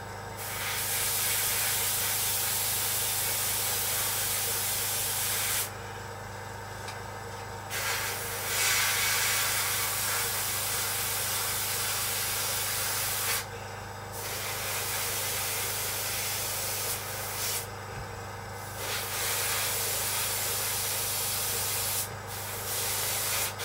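Airbrush spraying a wet coat of paint onto a Seafire scale model: a continuous close hiss of spray broken by a few short pauses where the trigger is released, over a low steady compressor hum.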